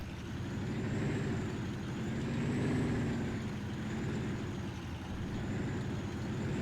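Tractor backing a trailer up beside a shed in Farming Simulator 19, a steady droning engine hum with a faint high whine held throughout, swelling slightly at moments, no talk.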